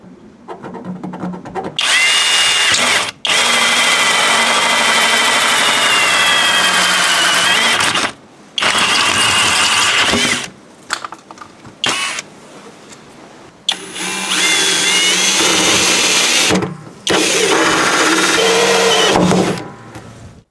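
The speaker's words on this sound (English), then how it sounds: "drill a hole in the drain pipe and the water tank" A power drill bores holes through a plastic drain pipe and water tank, running in loud sustained bursts of several seconds each, separated by short pauses and brief quieter moments.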